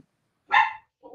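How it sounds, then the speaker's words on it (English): A single loud dog bark rings out indoors during a live vintage home décor sale, followed after a short pause by a fainter, softer vocal sound. "I don't know what the bark is."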